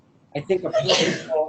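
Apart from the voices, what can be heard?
sneeze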